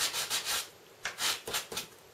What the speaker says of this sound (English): So when you sand them off,